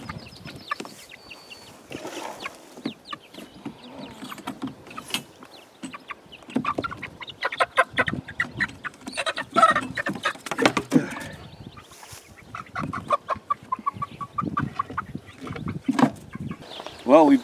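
Backyard hens keep up a steady run of close, overlapping clucks and short squawks around a coop where baby chooks are being housed, the calls rising and falling in bursts with a few soft voices mixed in.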